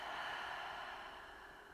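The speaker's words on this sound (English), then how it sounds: "A long breath out." A long, slow breath out during a calm relaxation exercise, a soft steady airy rush that fades gradually over under two seconds.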